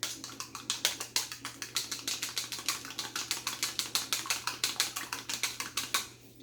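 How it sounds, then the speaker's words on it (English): A fork whisks an egg in a bowl for baked mac and cheese, making rapid, steady clicking taps at about five per second. The taps are close and crisp, with no talking. "Okay, so we're going to beat our egg."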